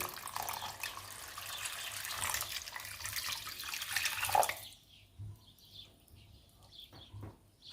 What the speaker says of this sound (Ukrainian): іще доливаю туди водички